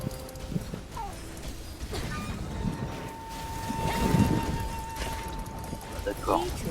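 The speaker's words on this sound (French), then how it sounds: "Attention aux chevaux" Horses in a guild-versus-guild multiplayer battle video game, with hoofbeats and faint whinnies mixed into dense battle noise, steady tones and voices throughout.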